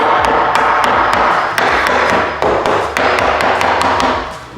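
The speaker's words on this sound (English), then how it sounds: "then we just knock this one in place" Repeated sharp taps knock a wooden wall stud into position during wall framing, a steady series of close, fairly loud hammer-like strikes with short pauses between groups, no voices.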